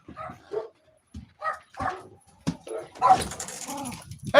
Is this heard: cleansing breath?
no